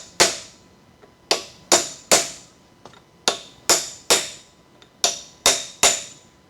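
A hammer strikes an aluminium drift on a 1986 Porsche 944 Turbo differential during disassembly: about a dozen sharp, ringing metallic taps, loud and close, spaced irregularly in short groups with quiet gaps between.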